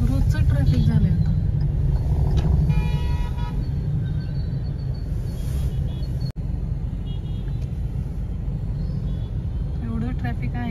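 Car horns toot repeatedly amid steady, loud road traffic noise on a busy street after rain, with people talking over the din throughout.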